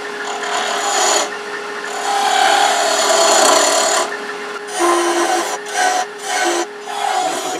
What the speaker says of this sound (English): I'm going to switch to a smaller spindle gouge that'd be a little less aggressive, I hope. And take smaller cuts.